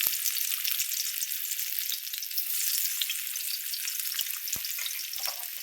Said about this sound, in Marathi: तुम्ही बघू शकता मी कांदा टाकत आहे